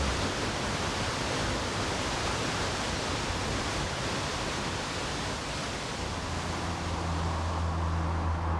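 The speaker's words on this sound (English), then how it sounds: "The Lone Creek Falls are quite breathtaking." Lone Creek Falls waterfall near Sabie, South Africa, a dense, steady broadband roar of falling water, continuous and even throughout, with a faint low hum joining toward the end.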